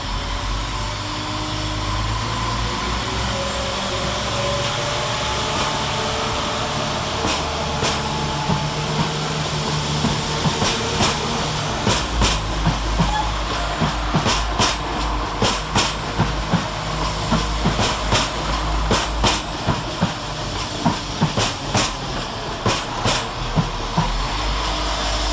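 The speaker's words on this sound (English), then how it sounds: "Depart with the 1101 West Midlands Railway service to Kidderminster via Dorwich" A pair of coupled West Midlands Railway Class 172 diesel units, 172331 and 172345, pull out of Stratford-upon-Avon station with a loud, sustained engine drone and wheel rumble. A growing run of rhythmic clickety-clack over rail joints follows as they gather speed.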